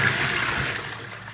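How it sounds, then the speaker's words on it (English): A wall-hung toilet gives its full, larger flush, a loud rushing surge of water that pours steadily for a moment and then starts to settle, heard close up with no talking. "As you can see by that, that's the bigger flush."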